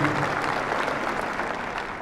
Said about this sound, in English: now you can applaud her